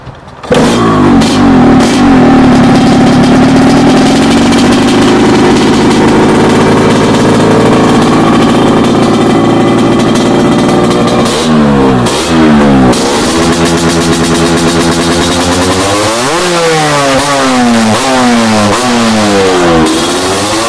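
A Yamaha RX King motorcycle engine fires up and revs loudly up close, the two-stroke note rising and falling through repeated throttle blips with no talk over it.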